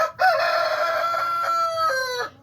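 A rooster from a backyard flock of laying hens and roosters crows once, loud and close, a sustained crow that drops in pitch at the end.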